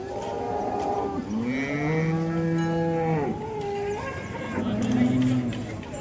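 Cows at the Modnimb cattle market in Maharashtra moo twice, first with a long, loud, sustained call and then with a shorter, lower one, close to the listener above a busy market background.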